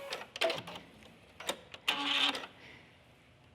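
A sewing machine backstitches along the waistband seam of a front-button skirt, with short stop-and-start bursts of stitching, one longer run near the middle, then quiet.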